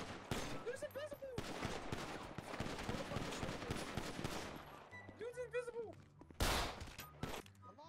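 Bursts of GTA 5 gunfire crack out in rapid volleys during a prison breakout, some sharp and close, others spread through the scene, with voices talking over and between the shots.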